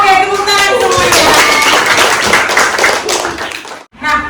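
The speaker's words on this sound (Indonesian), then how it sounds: "tepuk tangan semuanya" A class of schoolchildren claps together in a classroom, a dense burst of hand claps mixed with young voices and chatter that fades briefly near the end.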